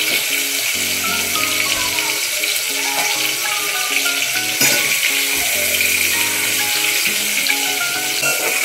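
Chili, coriander, ginger and garlic paste fries in hot oil for a squid dish, giving a steady loud sizzle throughout with a faint melodic background underneath.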